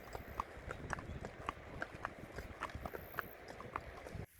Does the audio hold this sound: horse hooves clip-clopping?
yes